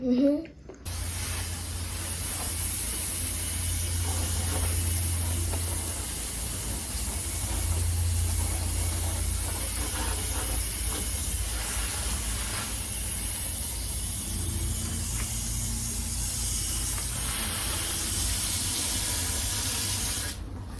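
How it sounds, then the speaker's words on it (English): A garden hose nozzle sprays water in a Los Angeles home garden, giving a steady broadband hiss that runs continuously for the whole stretch with a low rumble beneath, fairly loud and close. "If you're looking for a hose reel, go check this out."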